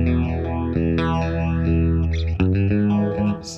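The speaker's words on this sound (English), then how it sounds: "One of the hallmarks of this, obviously, is the phaser pedal." Electric guitar played through a Fender phaser pedal in an outlaw country style, its sustained chords swept by a strong, whooshing phase effect, loud and continuous with a brief dip midway, with no talking.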